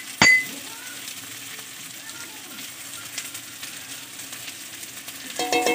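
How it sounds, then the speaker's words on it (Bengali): Spiced catfish curry fries and sizzles steadily in a pan as it is stirred, with a sharp clink of a utensil near the start and more scraping toward the end; a voice speaks faintly underneath. "এবার নাড়িয়ে নেবো ভালো করে"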